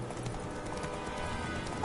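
Horse hooves gallop in The Witcher 3, a steady clip-clop rhythm of a ridden horse over continuous game ambience, close and moderately loud with no talking.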